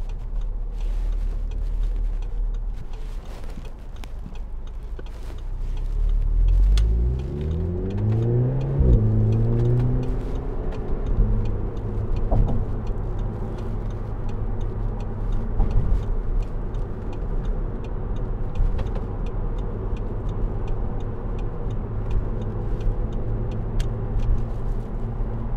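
A 2008 Audi TTS roadster with a 2.0 TFSI engine, S tronic gearbox and quattro drive accelerates on a motorway, its engine note rising through gear changes, then settling into a steady drone under road noise.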